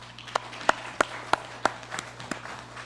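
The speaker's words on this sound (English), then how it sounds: "May we give him a round of applause." Sparse, scattered claps in a congressional chamber, a handful of distinct sharp hand claps spaced apart, faint and fairly distant over a low steady hum.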